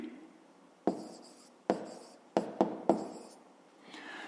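Pen strokes on paper during a fifth-grade maths lesson, five short scratchy bursts spaced irregularly, close and fairly quiet, with a faint rustle at the end.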